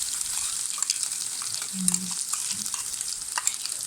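Onion paste fries in a pan for a fish curry, with a dense, steady hiss and crackle, stirring scrapes, and a brief low hum in the middle.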